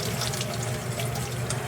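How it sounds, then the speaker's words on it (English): Tap water runs steadily into a sink as tie-dyed fabric is rinsed out, a continuous close splashing hiss with faint squishing, unbroken for the whole short stretch. "at this point we're just going to kind of wash it out"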